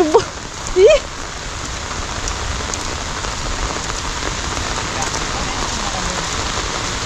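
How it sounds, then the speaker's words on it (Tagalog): Heavy rain pours down in a dense, steady hiss, drumming on a surface; a brief voice sounds at the very start, then the downpour continues alone. "Lakas ng ulan."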